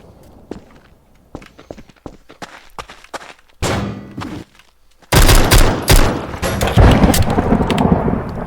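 Pistol shots from a 1911 handgun in Garry's Mod ring out as sharp, loud reports, first a scattered run of lighter thumps, then a dense, heavy volley of close gunfire.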